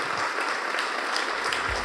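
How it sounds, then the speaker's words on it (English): Audience applause for speakers and service members at a community event on immigrants, a steady, dense patter of many hands clapping close and fairly loud throughout the brief stretch. "Let's give the speakers and the service members another round of applause"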